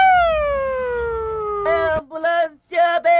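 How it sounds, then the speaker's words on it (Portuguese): Ambulance siren passing on a Brazilian road, its tone sliding steadily downward as it goes by, then breaking into loud, choppy wailing bursts with short gaps. "Ambulância besta."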